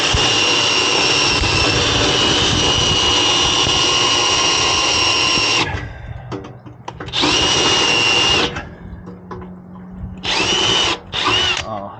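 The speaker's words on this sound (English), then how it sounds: "Plus I got a drill bit that's 9 sizes too big." A high-pitched electric drill fitted with an oversized bit whines continuously for several seconds, then fires in a few shorter bursts separated by quiet pauses.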